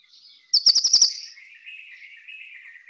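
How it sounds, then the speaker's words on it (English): An Aldabra fody, also called Comoros fody, sings in the Seychelles islands: a quick burst of five or six sharp, rapid chirps, then a thinner sustained trill, close and clear over quiet surroundings. "This is the Aldabra fody, aka Comoros fody."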